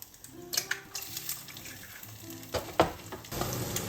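An egg fries crispy and golden brown in a pan, with close spitting crackles and pops over a soft hiss, and the sizzle swells louder toward the end.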